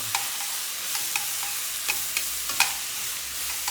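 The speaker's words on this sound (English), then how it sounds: "And this sizzling noise, that's a nice sound, yeah?" Vegetables sizzle and crackle in a hot pan, with a few sharp scraping stirs punctuating the steady frying hiss.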